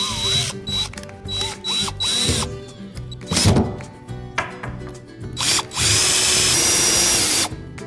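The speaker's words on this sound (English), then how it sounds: "with a number 2 Phillips bit, I'm going to put this screw right into the stud" A power drill with a No. 2 Phillips bit drives a screw into a wall stud while anchoring furniture, giving several loud, close whirring bursts with short pauses between them and a longer steady run near the end.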